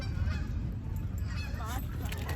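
Geese honk repeatedly at a moderate distance over a low outdoor rumble, their calls scattered and overlapping.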